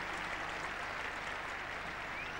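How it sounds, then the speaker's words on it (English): A distant cricket crowd at the 1981 Oval Test against Australia applauds a hundred partnership with a steady, faint wash of clapping that holds evenly throughout. "Applause for the 100 partnership, Geoffrey Boycott and Mike Gatting."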